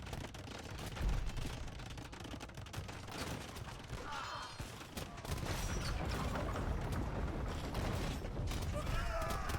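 Hand cannon gunfire in a real-time strategy game battle, a busy crackle of shots amid clattering combat noise, with a commentator talking over it.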